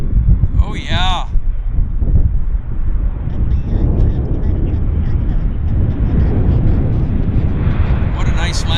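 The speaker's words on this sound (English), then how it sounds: "What a nice landing on this aircraft." A fixed-wing airliner landing at Vancouver Airport after a flight from Hong Kong, a steady loud roar of engine and wind rumble filling the whole stretch, with brief voices near the start and end.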